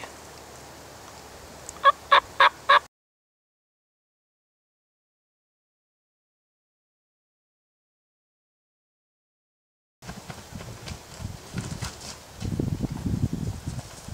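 A wild turkey on a midday hunt in Georgia lets out a quick run of three or four loud, rapid gobbles. A long stretch of silence follows, then rustling and movement noise.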